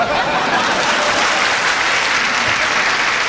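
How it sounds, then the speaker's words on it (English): A studio audience breaks into loud, sustained applause for a comedian's guest, a dense, steady wash of clapping that holds without pause and carries a faint chuckle from the crowd. "if we give him a nice round of applause"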